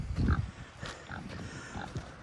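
Kune pigs grunting nearby, a couple of short low grunts, one louder near the start and softer ones after, over quiet outdoor background.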